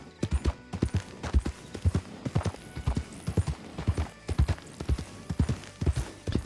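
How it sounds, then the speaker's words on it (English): A horse in the video game Red Dead Redemption 2 trots along with steady, rhythmic hoof clip-clops on a hard surface, close and continuous throughout. "Clip clop, clip clop."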